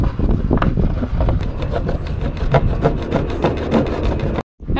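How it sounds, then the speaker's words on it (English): Mrs. Palmer's surf wax is rubbed onto a new Stewart surfboard in quick, steady scraping strokes, close and loud, forming a continuous rasping texture that cuts off abruptly near the end. "Time to wax up my new board"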